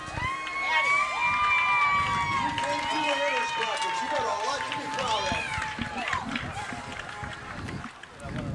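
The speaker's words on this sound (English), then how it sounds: "Right now we're hearing people cheering" Crowd cheering at a Legion state softball championship, many voices shouting and whooping continuously with high-pitched children's screams, while someone talks close to the microphone.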